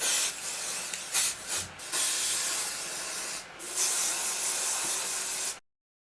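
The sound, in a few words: spraying Got To Be hairspray on hair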